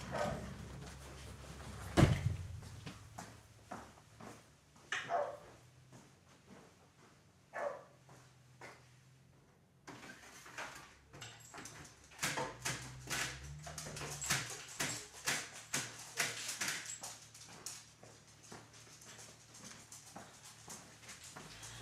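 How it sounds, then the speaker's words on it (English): Household dogs barking in repeated sharp bursts, fairly distant and faint indoors, with scattered thumps and movement around the barks. "My dog is barking."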